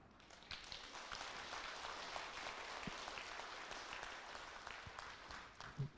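An audience at a Buddhist temple gathering applauds, a steady wash of many hands clapping heard faint and distant, with a louder thump near the end.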